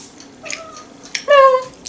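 A cat meows twice at close range, a short falling cry followed by a louder, drawn-out tonal meow, in a quiet kitchen during a meal of potatoes and tea.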